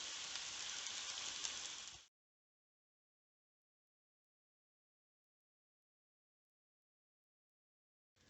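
Noodles pan-frying in a generous amount of oil for fried noodles with shredded pork, a steady close sizzle lasting about two seconds before cutting to silence, then resuming briefly at the very end.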